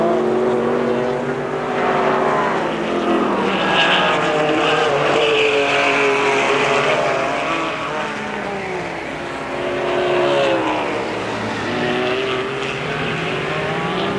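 Trans Am race cars, an Oldsmobile and a Beretta, roar around the 1990 Sears Point road course, their loud engines rising and falling steadily as they pass through gears over a continuous race-track din.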